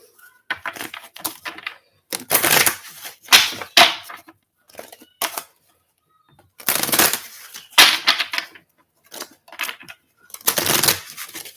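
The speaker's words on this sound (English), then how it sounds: "Let's shuffle this a little bit." Repeated bursts of crisp riffling and slapping as a deck of cards is shuffled, several rounds separated by short pauses, close and clear.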